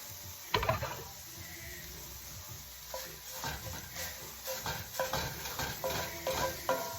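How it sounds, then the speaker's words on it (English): Fish, eggs, herbs and sausage are stirred together in a hot pan for a seafood gravy: a steady sizzle runs under scraping spoon strokes and soft knocks against the pan, growing busier toward the end. "I'm just gonna start mixing the fish, the eggs, the herbs, the sausage all together"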